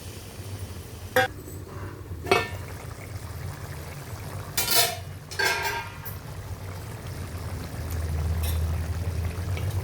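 Water pours briefly into a pot of gongura chicken curry, a short splashing gush in the middle, with a few light clinks and low kitchen hum around it.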